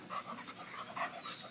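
A young protection-breed dog pants in quick, soft, breathy bursts, close by and fairly quiet, in a short rhythmic series.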